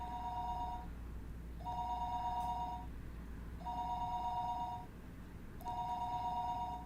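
A telephone ringing tone from the Higurashi visual novel: four evenly spaced bursts of a steady electronic tone, each about a second long, repeating over a faint constant hum with no voices.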